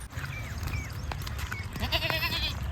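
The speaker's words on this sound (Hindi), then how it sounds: "एक बकरा ये है इनकी तरफ से माशाल्लाह से, और दूसरा ये ब्लैक और व्हाइट कलर में, ये वाला आप देख रहे हैं माशाल्लाह से" Goats, including a black-and-white one, bleat at an Eid al-Adha sacrifice gathering: several short, wavering cries, one after another, over steady outdoor background noise.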